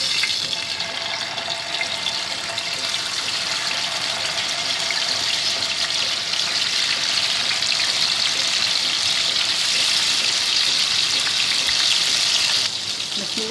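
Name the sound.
fish frying in oil in a frying pan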